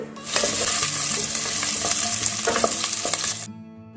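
Soybean chunks sizzle and fry in a pan, with steady crackling and a few scraping stirs over about three and a half seconds before the sound cuts off.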